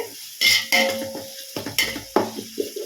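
Onions sautéing in a pan for chicken biryani: close, sharp scraping strokes of stirring sound over a crackling sizzle, with several distinct clanks and scuffs of the utensil against the pan. No one speaks.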